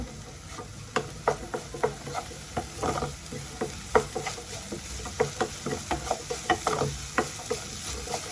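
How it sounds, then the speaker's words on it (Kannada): Onion and green chili frying in a pan, a continuous sizzle broken by frequent sharp scraping strokes of a spatula against the pan in an irregular rhythm, close and with no talk. "ನೀರುಳ್ಳಿ ಬೊಕ್ಕ ಕಾಯಿ ಮುಂಚಿ ಚೂರು ಫ್ರೈ ಆವಡು"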